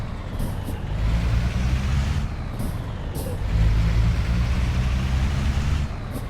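A Scania 143M truck in a driving simulator pulls away in first gear, a steady loud low engine drone that swells as it moves off, with a few brief hissing air-brake bursts on top.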